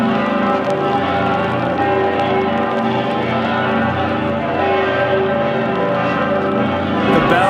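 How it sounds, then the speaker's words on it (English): Church bells in St. Gallen, Switzerland ring continuously, many overlapping tones forming a dense, sustained clangor that carries steadily throughout. "The bells are just going crazy right now, reminding everyone that it's time for church."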